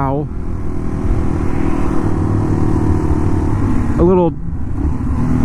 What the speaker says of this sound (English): why are we riding this bike?